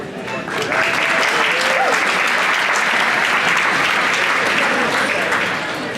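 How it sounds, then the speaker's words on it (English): Wedding guests applaud in a sustained burst of clapping that swells quickly and holds steady, filling the room, with a few faint voices mixed in before it starts to taper. "Another round of applause."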